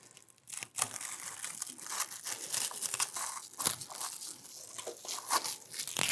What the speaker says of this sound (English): you can also use scissors to cut through that